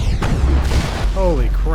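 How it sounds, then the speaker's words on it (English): Heavy rocket explosion in the video game Mass Effect, a sharp booming burst with deep rumble, loud and close amid ongoing combat noise, followed by a brief voice. "Jeez, another rocket."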